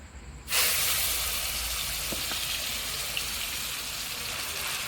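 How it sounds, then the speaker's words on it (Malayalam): Ground varikka jackfruit pulp, about two kilos, drops into hot cow ghee in a pan. After a brief quiet moment comes a sudden loud hiss, which settles into a steady, even sizzle. "നല്ല പശു നെയ്യ് ഒഴിച്ചു. ചക്ക ഇടാം."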